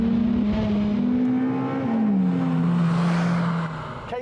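Honda Civic Type R EP3 hot hatch driven hard, its engine revving steadily then easing off through a gear change, close and loud with a constant rising-and-falling drone.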